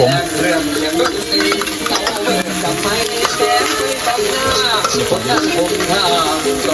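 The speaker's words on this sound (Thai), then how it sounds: "ต้องไปผัดกันครับ" Food is stir-fried in a hot pan, with continuous sizzling and the scrape and clatter of a utensil stirring, loud and close throughout.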